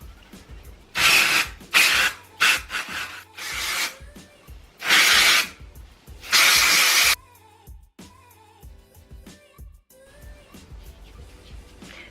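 Dry shampoo with nettle being sprayed and rubbed into hair, heard as several loud bursts of rustling friction in uneven spells, then quieter fingertip scratching near the scalp.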